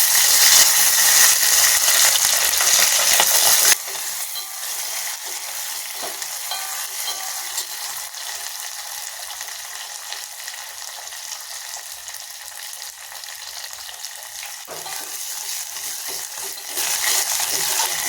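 Sliced onion, green chillies and curry leaves fry in hot oil in a pan, a dense crackling sizzle that eases to a softer hiss after a few seconds, with intermittent scraping of a spatula stirring, close and without talk.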